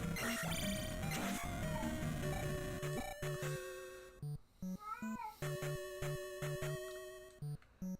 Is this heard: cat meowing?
yes